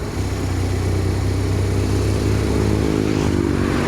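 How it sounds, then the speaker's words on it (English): A small 125cc motorcycle passes close by, its engine a loud, steady buzzing drone that rises slightly in pitch, then begins to fade as it moves away. "There's another bike."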